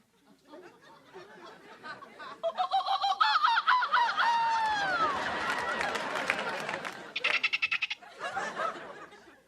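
A person imitating bird calls with the voice, giving a run of honking, goose-like squawks and warbling whistles, then rapid choppy clucks, loud and close.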